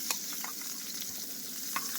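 Pointed gourd (potol) slices fry in hot oil in a pan, giving a steady close sizzle with scattered sharper pops and crackles, and no voices.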